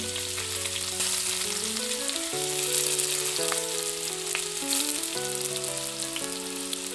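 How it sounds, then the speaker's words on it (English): Chopped ginger, split green chillies and curry leaves sauté in a pan for chicken 65. A bright, steady sizzling hiss runs throughout under louder melodic background music, with no talk. "1 tablespoon of chopped ginger, 4 pieces of split green chili, 5 gram curry leaves, and I am going to saute it well"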